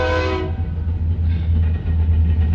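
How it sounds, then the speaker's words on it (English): A passing train sounds a brief blast of its horn, followed by a loud, steady low rumble and rolling noise from the cars, with no voices. "can you hear the train?"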